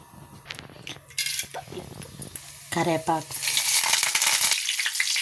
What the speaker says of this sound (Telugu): ఇప్పుడు ఉల్లిపాయలు వేసేసాను.